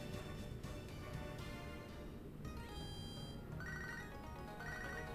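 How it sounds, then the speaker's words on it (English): A Pokégear phone call rings in the video game Pokémon HeartGold, a repeating electronic chiptune ringtone that plays clearly over the game's background music. "I don't have to hear the ringing sound, but I apologize if you do."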